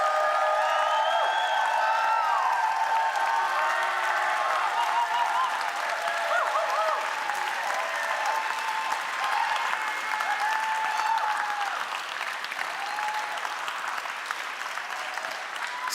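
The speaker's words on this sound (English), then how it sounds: "Now, give him a round of applause." Sustained applause from a large audience at a live closing event on stage for Mindvalley University 2023, steady dense clapping filling the whole stretch with a few faint voices and cheers mixed in, tapering slightly near the end.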